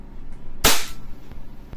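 A single sharp, loud pop from a WE Hi-Capa semi-auto airsoft pistol firing during a gas blowback test, followed by quiet room tone and a couple of faint clicks.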